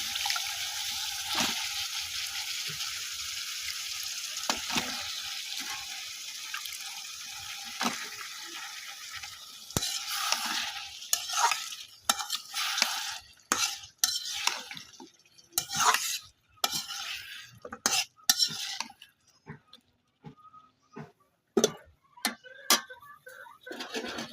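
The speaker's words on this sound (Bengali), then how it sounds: "এখন আমি দিয়ে দেব ডাটাগুলো, ফুলকপির ডাটা আর আলু।" Cauliflower stalks and potatoes stirred in a hot cooking pan in a village kitchen, a soft sizzle at first, then irregular close scrapes and knocks of the spoon against the pan, no talk.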